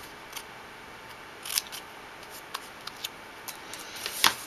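Scissors cut through a paper butterfly shape, crisp close snips spaced out over a few seconds, with a couple of louder sharp closes and no talking.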